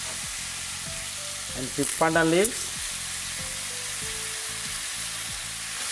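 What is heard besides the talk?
lemongrass sizzling as it is added to goat curry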